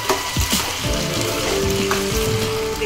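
Diced potatoes frying in a pan over a high gas flame for sabudana khichdi give a steady, close, loud sizzle, with a few clinks of a utensil against the pan and no talking.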